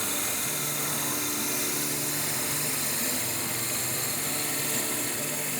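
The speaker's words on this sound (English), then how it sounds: "you always want to hold on to the chuck while you're drilling" A power drill bores through wood, a loud, steady motor whine with a constant buzzing hum that runs unbroken throughout, with no talking over it.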